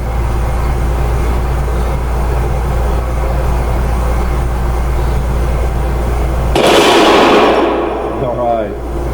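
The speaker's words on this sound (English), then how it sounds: "I'll shoot the hanging propane, or the hanging tank over there" A Desert Eagle .50 AE pistol is fired outdoors at a hanging propane tank: one sudden, loud, sharp shot comes late, breaking steady background noise and leaving a brief ringing decay.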